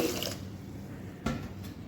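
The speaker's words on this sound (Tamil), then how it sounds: "இந்த மாதிரி தண்ணி ஊற்றி" Water poured into a vessel over soaking millet and urad dal for idli batter gives a brief, close splashing pour that stops after a moment.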